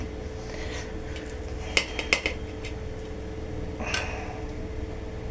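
A spoon clinks twice against a metal pan while solidified coconut oil goes into the hot pan, then a softer scrape follows, all over a low steady kitchen hum.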